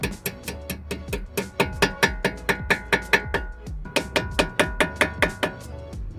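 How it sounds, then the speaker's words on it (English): Rapid series of sharp metallic taps from a small hammer during brake pad and rotor work on a 2019 Jeep Grand Cherokee, around two dozen quick strikes in an uneven rhythm with a short pause midway, close and fairly loud. "Smaller hammer."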